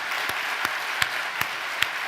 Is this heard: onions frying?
no